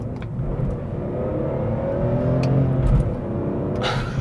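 A 2003 BMW M3 with an SMG sequential manual gearbox accelerates hard, the engine revving up in rising pulls broken by abrupt, punchy gear shifts, loud and close with no talking.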